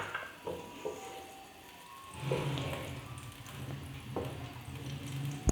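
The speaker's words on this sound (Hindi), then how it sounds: "घी थोड़ा सा मेल्ट होता है" Desi ghee melts and sizzles softly in a pan, for a jaggery rice dish, as a steady low hiss that thickens partway through and carries on quietly with no voices.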